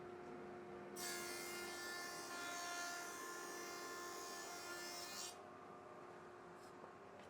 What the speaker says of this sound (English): it's over to the jointer thicknesser, where I can plane off the old poly finish on one side